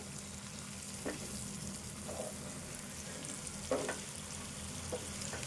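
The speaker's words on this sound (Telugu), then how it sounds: "ఈ ఎగ్ ఇందులో వేసుకొని కొద్దిసేపు ఫ్రై చేద్దాము" An egg frying in a pan gives a constant soft sizzle, with a few brief clinks and scrapes of a utensil against the pan.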